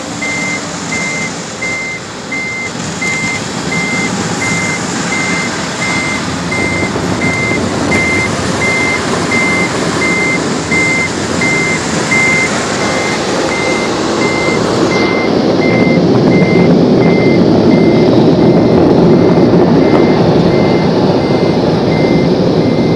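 Big blowers at the end of an automatic car wash roar steadily and loudly for the whole stretch, building slightly toward the end, with a repeating reversing-style beep pulsing through the noise.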